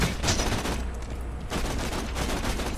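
A turret in the Borderlands 2 video game fires dense, rapid bursts of gunfire, loud and close, with a brief lull partway through before the shooting resumes.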